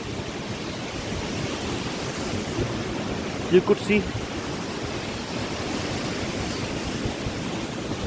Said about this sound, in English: to Jogni Fall waterfall.